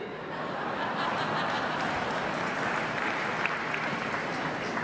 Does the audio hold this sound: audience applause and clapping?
yes